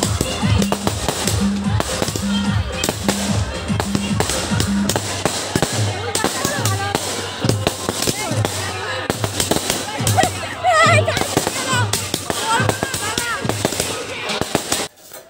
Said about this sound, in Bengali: তো বিসর্জনের দিন এরা প্রচুর পরিমাণে বাজি ফাটিয়েছে।